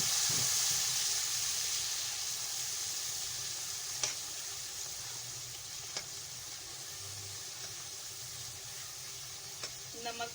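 Garlic ginger paste with ground chili and coriander sizzling among browned golden onions in a pan, a steady bright frying hiss throughout with occasional faint clicks of stirring.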